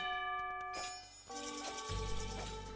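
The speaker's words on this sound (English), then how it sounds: "he's ringing the town bell" Town bell ringing in a multiplayer strategy game on console, a sustained metallic chime with ringing overtones layered over busy game sounds, steady and moderately loud throughout.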